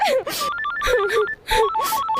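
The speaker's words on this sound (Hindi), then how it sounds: "मैं अभी तो बिल्कुल फोन को नहीं उठाऊंगी" A telephone plays a melodic, repeating ringtone in a Rajasthani film scene, loud and close, with short breaks between bursts.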